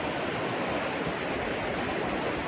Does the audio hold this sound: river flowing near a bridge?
yes